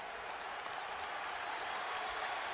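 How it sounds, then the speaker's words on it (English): Basketball arena crowd cheering steadily at a Marquette versus Cincinnati game in 2002, a dense, continuous roar of voices and applause filling the space without a break. "And the crowd is back into the game."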